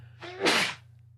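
A single sneeze, close and fairly loud, with a short breathy intake leading into a sharp burst, then quiet over a steady low hum.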